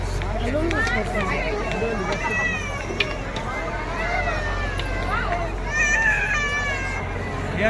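A busy crowd outside the Ram temple in Ayodhya: continuous babble of many voices, with children calling out and shrieking, a dense steady hubbub close around.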